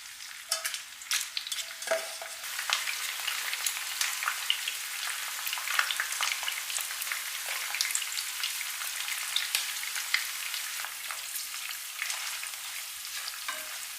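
Shrimp heads and shells fry in oil with scallions and garlic, giving a steady close sizzle with scattered sharp pops and crackles throughout, and no talking.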